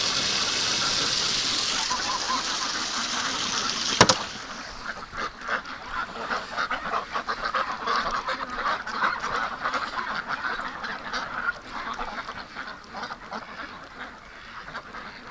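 Ducks quacking steadily nearby, a noisy flock chattering over outdoor background noise, with one sharp knock partway through.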